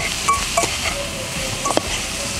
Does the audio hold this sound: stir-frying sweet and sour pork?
yes